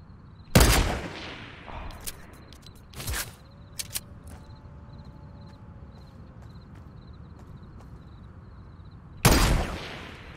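Gunfire in Fortnite, heard as a few sharp, loud sniper-like shots spaced several seconds apart over quiet game ambience with faint small clicks between them.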